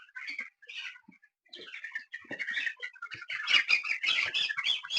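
A cluster of thirteen-day-old broiler chicks in a poultry shed chirps nonstop, their high peeping rising and growing busier and louder, with no talking.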